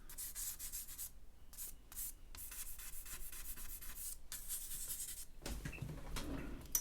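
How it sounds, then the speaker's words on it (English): An eraser rubs across drawing paper in quick repeated strokes, close and fairly steady, with short pauses between passes and a coarser scuffing burst at the end; no one speaks. "the fresh eraser hitting the page"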